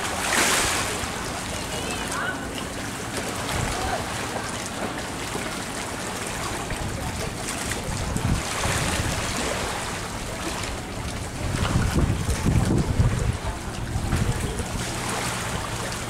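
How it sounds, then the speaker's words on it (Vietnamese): A wooden seafood-buying boat runs between islands off Ba Hòn Đầm. A steady motor rumble mixes with rushing, splashing water, and voices can be heard over it. "Ghe đó chứ ghe thu mua, người ta chạy đi các đảo này đảo kia"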